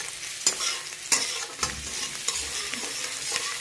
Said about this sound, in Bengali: মা একটু ব্যস্ত আছে বলে আমি একটু নেড়ে দিচ্ছি, ভালো করে নেড়ে দিচ্ছি